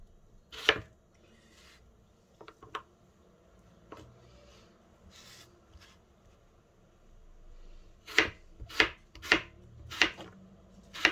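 Knife cutting kale into 1 centimeter strips on a board: a few scattered single chops early, then a quick run of five or six crisp, close strokes near the end, with quiet pauses between.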